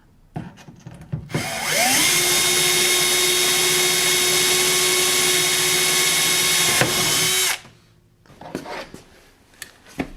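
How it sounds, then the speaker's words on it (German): A 2 mm bit drills through wood with a power drill, a steady high whine holding for several seconds, rising at the start and cutting off sharply, with faint workshop handling sounds around it. "Und ich bohre mit dem 2 mm Bohrer durch."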